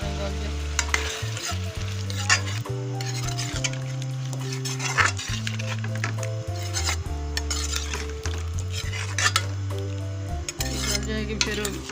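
Chicken and potatoes cook in a pan with a little added water, giving steady sizzling with repeated stirring and scraping of a utensil against the pan, close and continuous throughout.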